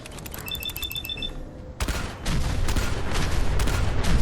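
Weapon fire in Fallout 4, a gun dealing 550 damage per shot: a quick run of electronic beeps gives way to loud, dense, rapid bursts of shots that continue to the end.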